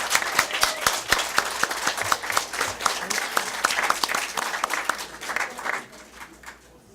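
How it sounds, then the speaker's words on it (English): Warm applause from board members and families fills a school district board meeting as a student of the month is called up with her family, steady dense clapping that tapers off toward the end. "Let's give them a big round of applause."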